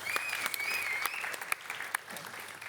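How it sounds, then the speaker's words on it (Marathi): A studio audience claps steadily to welcome actor Bhushan Kadu at a Zee Gaurav awards event, a dense burst of applause with a faint whistle riding over it. "भूषणसाठी जोरदार टाळ्या."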